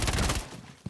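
Rapid gunfire from an SMG-12 in a first-person shooter: a dense, loud burst of shots for about half a second, tailing off, then one more quick shot near the end.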